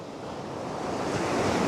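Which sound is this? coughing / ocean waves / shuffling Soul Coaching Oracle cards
ocean waves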